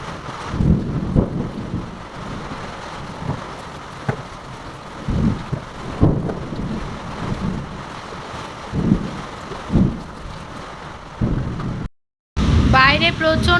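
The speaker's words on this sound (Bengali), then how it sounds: "বাইরে প্রচণ্ড বৃষ্টি হচ্ছে" Heavy rain and a thunderstorm pour down outside a home, a steady broadband wash with recurring low rumbling bursts throughout, ending in a brief cut followed by a louder stretch.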